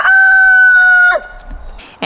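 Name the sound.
rooster crowing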